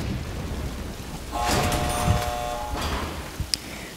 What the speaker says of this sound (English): open this door now